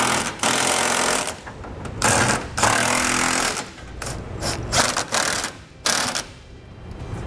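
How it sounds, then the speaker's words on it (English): Ratchet wrench tightening hardware on a B and W heavy-duty trailer hitch receiver on a 2014 Chevrolet, heard as close, loud bursts of rapid mechanical clicking separated by short pauses, with no talking. "now we'll snug down our hardware"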